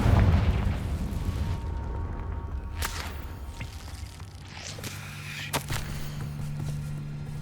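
A Confringo blasting spell goes off in Hogwarts Legacy inside a cave, a sharp whip-like crack followed by a booming burst and fading rumble, with a second smaller crack later.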